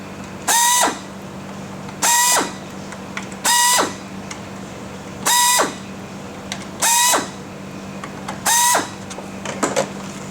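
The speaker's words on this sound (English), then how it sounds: "Just need to remove the 6 screws holding the plate down." Power screwdriver backing out the six screws holding the rear plate of a Vandersteen Classic speaker, six short whirring bursts at a steady interval of about 1.5 seconds, close and clear over a faint hum.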